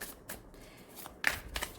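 Tarot cards are shuffled close by in a few brief, crisp riffling bursts with short pauses between them, with no talking.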